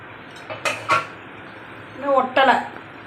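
Metal idiyappam steamer plates are lifted open, giving a couple of sharp clanks followed by a longer ringing metallic clatter, close by with no speech.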